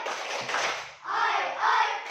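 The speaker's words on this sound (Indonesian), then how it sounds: "Tepuk semangat." A group doing a rhythmic spirit clap in a classroom-style session, dense close hand claps in two short bursts with voices mixed in.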